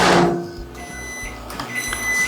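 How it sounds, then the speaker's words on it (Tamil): A microwave oven heating a chocolate chip mug cake gives a steady, close hum with a low rumble running throughout and no voices. "இப்போ வாங்க இந்த மைக்ரோவேவில் வச்சிடலாம் ஒரு 2 minutes"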